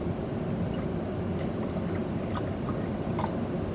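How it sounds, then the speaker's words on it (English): Water poured into a laboratory beaker for a reaction with calcium: a continuous low splashing trickle with small drips, close and steady for several seconds. "Here I have my beaker for my reaction with calcium. I'm going to add some water to it."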